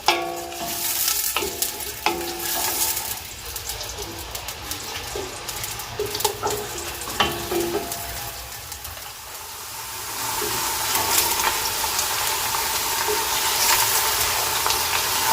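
Onions frying to golden brown in a pan for kaleji masala, a steady close sizzle with repeated stirring scrapes and clinks that grows fuller and louder toward the end.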